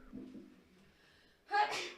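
A single sharp sneeze bursts out near the end, close to the microphone, after a few seconds of quiet breathing.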